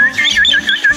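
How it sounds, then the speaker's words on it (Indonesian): Birds in an aviary give bright, repeated whistled chirps in a quick rhythm, loud and close with nothing else around them. "Ada burung."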